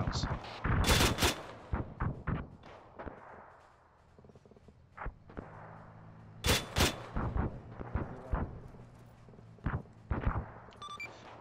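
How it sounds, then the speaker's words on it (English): Mortar rounds and gunfire fill an ARMA III military game battle: repeated sharp blasts and rattling shots, some close and loud and others more distant, over a rumbling background with occasional radio chatter. "we got a mortar to our 6 starting dropping some rounds."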